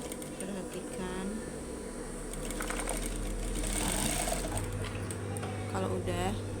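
A sewing machine stitches an elastic skirt waistband in a steady, close mechanical whir that speeds up partway through, with faint background talk and rustling.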